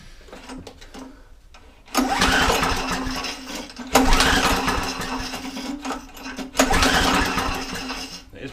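A Hayter Hayterette lawn mower, left unused for over two years, runs roughly with a popping engine in three loud bursts, each cutting back to a quieter idle-like lull between.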